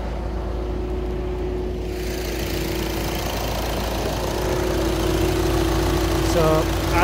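Steady engine drone from a VW Passat 2.0 TDI idling in the engine bay, with the radiator fan whirring at full speed throughout; a continuous close hum that grows slightly louder toward the end.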